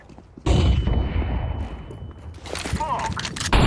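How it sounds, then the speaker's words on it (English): A flashbang grenade in Counter-Strike 2 goes off as a sudden loud burst, with a sustained ringing tone and noisy rumble after it and a second sharp blast at the end, amid game sounds and some talk. "I'm throwing a flashbang."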